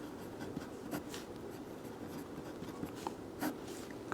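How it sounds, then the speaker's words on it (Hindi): A pen writes out a class 9 geometry solution on paper, producing soft, continuous scratching strokes with small taps, faint and close, with no talking. "देखो जो दिया है वो लिखेंगे"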